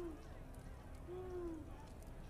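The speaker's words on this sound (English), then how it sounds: "It's just an owl" An owl hoots in a scene from a fantasy TV drama, one faint, drawn-out hoot in the middle of a quiet, dark background with no talking.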